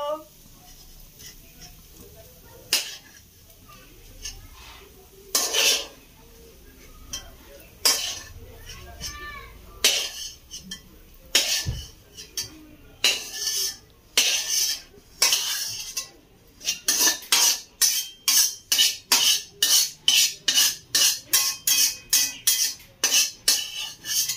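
A metal utensil scrapes and clinks against a pan as a fried egg is lifted out, with sharp irregular knocks that quicken into rapid rhythmic taps near the end, under occasional talk.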